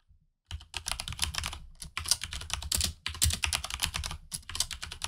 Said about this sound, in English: I have to type it.